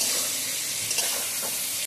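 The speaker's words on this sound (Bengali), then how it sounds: "এবারে ভালো করে নাড়িয়ে চাড়িয়ে তাকে পুরো মুড়িয়ে ফেলার চেষ্টা করব," Tomatoes for a Bengali-style fish curry frying and being stirred in a pan, a steady close sizzle with soft scraping strokes, heard alone for a couple of seconds before it cuts off.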